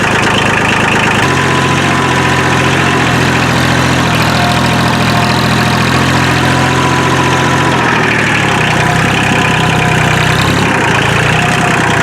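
Vehicle engine running in low gear while heading down a muddy hill, a loud, steady, rumbling drone with constant vibration and no pauses, close to the microphone.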